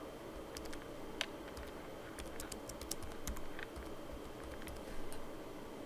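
A name typed on a computer keyboard, with scattered quick key clicks in short irregular bursts, fairly faint over a low room hum and with no talking.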